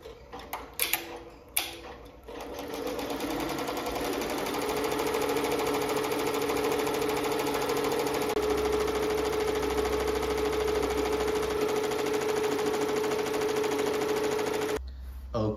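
A computerized embroidery machine stitches a monogram onto a sock, a steady loud mechanical whir with a faint ticking rhythm running for about ten seconds after a few clicks, then stopping.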